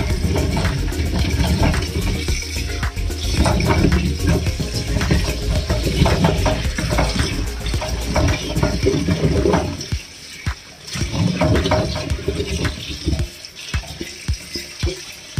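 Vegetables being rinsed under a running kitchen tap, a steady splashing water stream with varying gurgles and clatter as the produce is handled, fairly close and continuous, easing briefly near the end.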